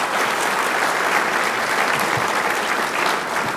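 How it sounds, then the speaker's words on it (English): Steady, dense applause from a seated audience at a State of the City address, loud and continuous throughout with no speech over it. "So I would give all of them a round of applause."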